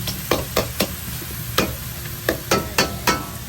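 Metal spatula scraping and tossing noodles in a wok, about eight sharp rhythmic strokes over a low steady sizzle, no talk.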